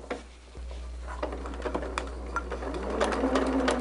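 A sewing machine stitches a quilt block in quick, uneven bursts of patter, the needle ticking close by after a short pause, running alone with no talk.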